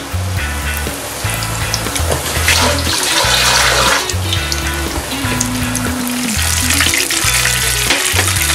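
Squid tempura in hot oil crackles and sizzles steadily, dense and loud up close, with low background music running underneath.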